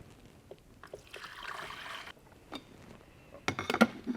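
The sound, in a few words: water poured into an electric coffee maker's compartment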